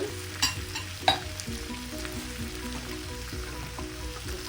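Vegetables and noodles stir-frying in a pan for restaurant-style chicken noodles at home, a soft continuous sizzle with a couple of sharper clatters of stirring near the start.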